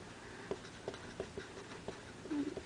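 A Uni Kuru Toga mechanical pencil scratches softly across paper in short strokes with small repeated ticks, faint and close against a low background hiss.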